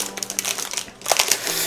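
Logitech G413 mechanical gaming keyboard packaging being torn open, a run of close crinkling and ripping rustles with short pauses and a louder burst of tearing near the end.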